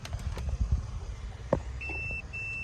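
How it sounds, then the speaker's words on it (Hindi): Two thin, high-pitched electronic beeps sound near the end, the first short and the second held, over a quiet background hum. "बीप का साउंड आने लगा"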